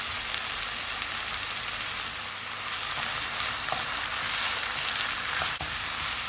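Onions frying in vegetable oil with salt and turmeric, a continuous even sizzle heard up close, broken only by a couple of faint clicks, with no talking.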